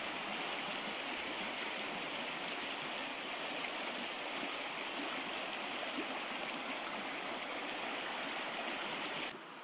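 The Bolshaya Tesma river in Taganay, Russia, rushes steadily and evenly, a dense broadband flow with no breaks that fades out at the very end.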